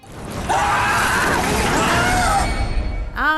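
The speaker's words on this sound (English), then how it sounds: "which leads to a Willem scream." A Wilhelm scream stock sound effect: a loud, drawn-out scream rises and wavers over a few seconds amid background noise, then breaks off abruptly.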